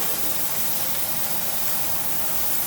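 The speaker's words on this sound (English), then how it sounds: "I want a really nice sear on that." A strip steak searing in a hot pan gives a loud, steady broadband sizzle that holds without a break.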